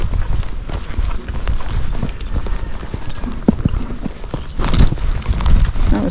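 A gaited horse's hooves clopping down stairs on an outdoor trail, loud and close, with steady uneven thuds against continuous wind rumble.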